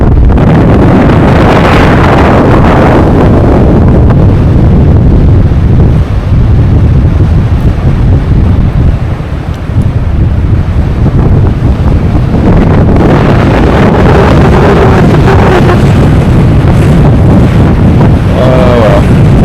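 Strong wind on the Île d'Oléron coast buffets the microphone in a loud, continuous roar with gusty swells. Faint surf may sit underneath.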